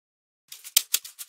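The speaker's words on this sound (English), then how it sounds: "the second one is more of a afrobeat shaker" Afrobeat shaker at 110, a short loop of crisp, airy rattling strokes in a quick uneven rhythm, close and dry after a brief silence, with no talking.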